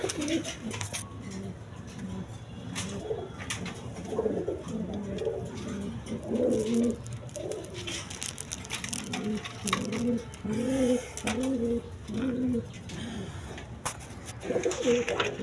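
A pair of Chuya Chandan pigeons, male and female, coo repeatedly in low, throaty bursts, close by, with soft background noise throughout.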